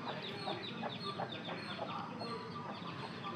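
A rooster, a full-sized heavy double-bodied cockerel, clucks repeatedly amid a dense chorus of other fowl and farmyard noise, with short calls rising above a steady, busy background.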